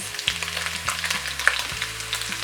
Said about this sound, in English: So now that the pork has browned a bit, I'm just gonna add my onions